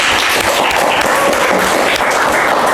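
Students in a vocational school classroom give a burst of applause, a loud, dense wash of many hands clapping together that holds steady without pause for nearly three seconds.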